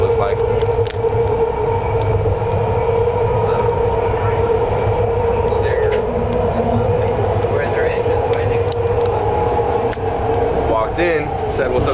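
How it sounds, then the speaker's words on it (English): Loud, steady rumble and whine of a BART rapid transit train riding toward San Francisco, heard from inside the car, with a continuous drone and faint clicking of the rails throughout. "We're on the BART train, to San Francisco."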